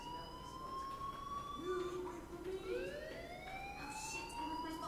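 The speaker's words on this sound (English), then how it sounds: "do you hear that fire alarm? That means you should be outside." A fire alarm wails in the video game Life Is Strange, rising and falling siren tones sounding steadily over a dense background for the whole stretch, with no clear talk.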